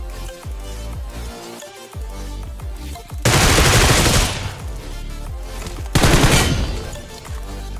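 Gunfire in the mobile battle royale game PUBG Mobile: loud, rapid single shots in a rhythmic string, then two dense bursts of automatic fire, close and without voices.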